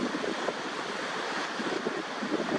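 Waves washing onto a family beach, a steady hiss of surf and wind noise holding at an even level throughout, with no talking.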